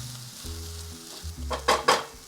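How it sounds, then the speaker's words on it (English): Onions and herbs fry in a pan for a vegan lentil burger, a close steady sizzle with a low hum beneath and two louder bursts of stirring near the end. "it infuses the herbs into the onions if you cook the onions first like this"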